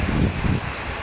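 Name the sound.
heavy rain pouring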